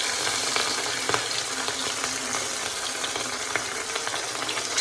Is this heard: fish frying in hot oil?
yes